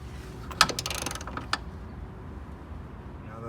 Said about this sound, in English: I'm gonna go ahead and tighten everything tight right now